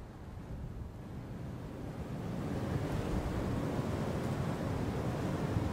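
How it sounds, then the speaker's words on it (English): Rushing floodwater from a flash flood in a river channel, a dense, steady broadband roar that grows louder partway through and stays continuous, with no talk. "This is an actual flash flood from rains that were about 20 miles away."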